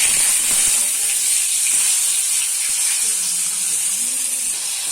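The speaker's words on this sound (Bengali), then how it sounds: "তেল গরম হয়েছে, তো তেলে আমি টমেটোটা দিয়ে দেবো।" Tomato dropped into hot mustard oil in a wok fries with a steady, close broadband sizzle and hiss that holds evenly throughout, with faint stirring clicks underneath and no talking.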